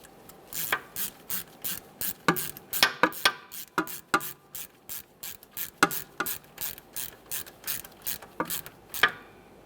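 A hand ratchet tightens the ABS wheel speed sensor mounting bolt on an Acura MDX, giving a quick, close series of sharp clicks in uneven bursts throughout.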